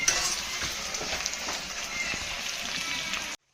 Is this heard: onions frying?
yes